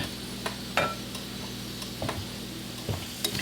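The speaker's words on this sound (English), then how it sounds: "So now I'm going to flip those potatoes, those dollar fries." Potatoes cut as small round dollar fries sizzling in a pot of hot oil, a steady soft crackle with a low hum beneath and a few sharp stirring clicks and taps.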